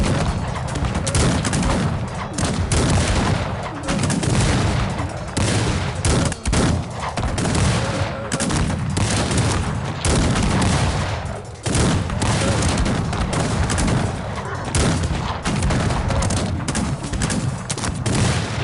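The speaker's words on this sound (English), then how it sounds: "There he is, shooting at us." Dense, continuous gunfire and booming volleys from a Cossacks 3 two-versus-two multiplayer battle, musket fusillades and artillery crackling loudly and almost without pause throughout.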